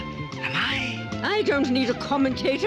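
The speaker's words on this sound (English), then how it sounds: "A cat. I recognize that cat." A cat meows in a brief, high, wavering cry in a cartoon scene, mixed with spoken dialogue and music that continue around it.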